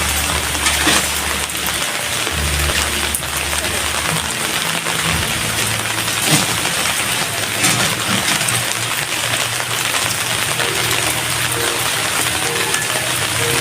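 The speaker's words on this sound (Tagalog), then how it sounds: "Sobra pong ulan." Heavy rain pours steadily onto a house under construction, a dense unbroken hiss of drops striking surfaces close by with no talk over it.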